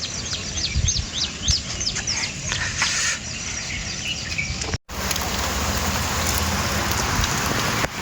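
Steady rain pattering on farmland with a dense, even hiss, with birds chirping faintly in the background and a brief cut partway through.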